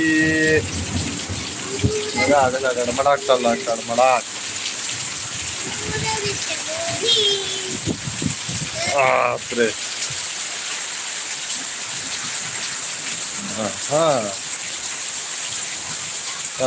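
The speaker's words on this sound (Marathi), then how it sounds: "जोरदार पाऊस चालू झालाय" Heavy unseasonal rain pours steadily in a rural outdoor setting, a constant wash of noise under excited talk and laughter from people nearby, with occasional louder gusts.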